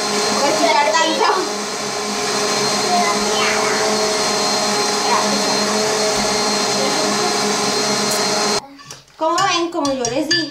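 Electric mixer whirring steadily through egg batter in a home kitchen, a loud continuous motor whine for about eight seconds before cutting out, followed by voices talking.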